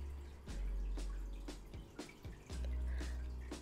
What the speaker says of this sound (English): Give this a whisk until the egg yolks is like pale yellow